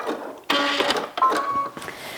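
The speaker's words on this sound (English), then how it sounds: "I'm going to go ahead and sew down one short side here" A sewing machine stitching fabric ruffle strips together, running in two quick close bursts with a brief pause, with a light whirring and clatter of the mechanism.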